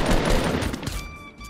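Rapid bursts of gunfire in the Fortnite video game, a quick run of sharp shots that trails off into quieter game sounds.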